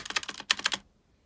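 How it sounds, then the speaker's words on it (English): Rapid clicky keystrokes on a blue-switch mechanical keyboard, including spacebar presses: about six sharp, close taps in quick succession, then silence. "And on the blue one, the click is way louder, like everything's more clicky."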